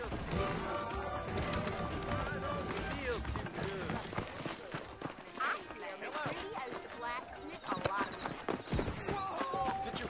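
In Red Dead Redemption, saddled horses clip-clop steadily amid a dense game soundscape of music, effects and character voices.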